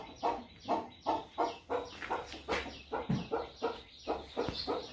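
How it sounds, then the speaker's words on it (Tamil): Free-range country chickens cluck in a rural garden, a steady run of close, rhythmic clucks repeating about every half second with a few sharper calls mixed in, and no talking. "நாட்டுக்கோழி எல்லாமே"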